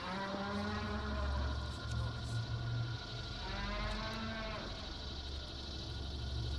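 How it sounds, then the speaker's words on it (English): In the video game Metal Gear Solid 4, a low, drawn-out, cow-like mooing bellow sounds several times over a rumbling background, fairly loud and close. "Actually, it sounds like a cow."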